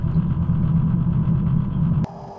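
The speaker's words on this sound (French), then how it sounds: "Donc je vous mets les essais moteurs en accéléré" Light aircraft piston engine during a pre-flight run-up test, a loud steady close drone that cuts off abruptly near the end, leaving a faint lower hum.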